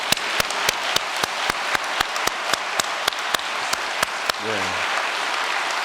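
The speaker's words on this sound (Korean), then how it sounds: "먼저 큰 감사의 박수 한번 올려드리겠습니다" A church congregation at a New Year's prayer service claps in unison, sharp evenly spaced beats ringing over a wash of general applause, until a voice cuts in near the end.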